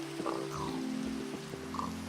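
Steady rain pours down in the Minecraft world, a dense even patter with a few brief sounds and soft background bits over it.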